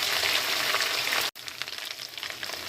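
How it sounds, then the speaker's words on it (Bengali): Whole garlic, bay leaf and ginger-garlic-mustard paste fry in mustard oil with five-spice for a pickle, a dense sizzling hiss that briefly cuts out, then returns softer with light stirring crackles. "কিছু আস্ত রসুন, তেজপাতা, আদা রসুন সর্ষের বাটাটা দিয়ে নেড়ে চেড়ে নিচ্ছি।"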